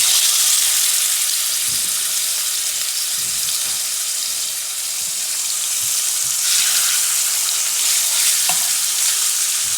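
Jamaican-style oxtail fries in a pot on medium heat with a loud, continuous hissing sizzle and occasional stirring knocks, close and without voices.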